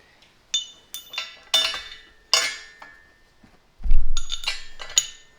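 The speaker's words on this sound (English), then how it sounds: "We're going to put in the longer of the hex bolts." Sharp metallic clinks and taps as long hex bolts are slid through the holes of a Kabuki Strength trap bar, several separate hits spaced irregularly, then a short heavier knock and rattle near the end.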